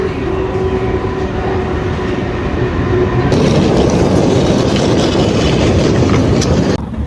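A train in Switzerland rumbles loudly and steadily from inside the carriage, with a constant roar and a faint tonal whine that gives way to a broader rushing noise partway through.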